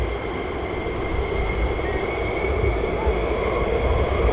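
A fighter jet taxis at RAF Lakenheath, heard as a steady, loud broadband engine roar with a sustained whine, continuous throughout without pause.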